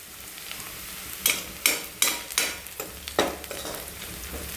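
Chopped onions fry in a pan while being stirred, a steady low sizzle broken by several sharp scraping strokes of a spoon, close and fairly quiet.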